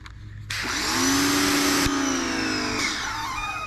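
A pressure washer fitted with a short wand and white nozzle is used while washing a Chevy Silverado, starting abruptly with a loud, steady high-pressure hiss and motor drone that holds for a few seconds.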